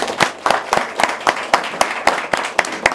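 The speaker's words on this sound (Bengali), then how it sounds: "সবার পক্ষ থেকে একটা জোরে তালি দিতে চাই" Audience applause for certificate recipients comes as close, evenly spaced claps in a steady rhythm, roughly four per second, crisp and moderately loud with no voices over them.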